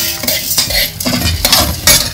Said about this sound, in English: We'll keep frying the chana dal.